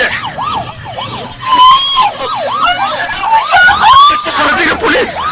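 A police car siren wails in rising and falling sweeps, loud and near, with brief overlapping tones and background noise beneath the repeated cycles.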